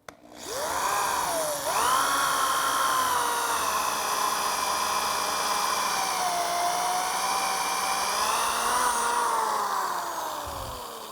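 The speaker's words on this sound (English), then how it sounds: "I'm going to drill straight down" A power drill bores straight down into wood while building the back legs of a sculptured child's rocker: a steady, close motor whine that holds for about ten seconds, its pitch dipping and rising under load before it winds down.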